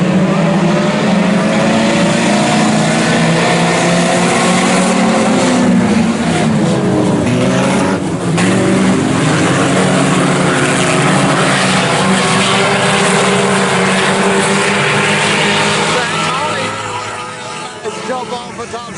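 IMCA Sport Compact race cars roar around the Salina Speedway track in a loud, sustained pack, engines rising and falling as they pass, with an announcer talking over the noise before it fades near the end.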